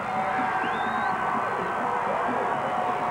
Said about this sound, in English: Gary cannot hear me above this enormous, huge crowd.